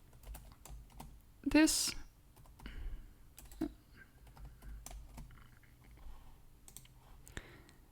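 PHP code is typed on a computer keyboard in a run of soft, quiet key clicks, with one louder burst partway through, heard under a voice as he talks.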